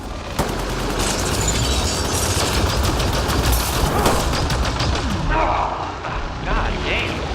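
Heavy gunfire in Mass Effect: Andromeda, with rapid automatic bursts and booming shots close and loud, easing off near the end as other game effects take over.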